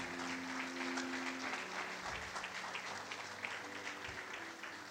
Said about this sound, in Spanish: Le den un fuerte aplauso ahí.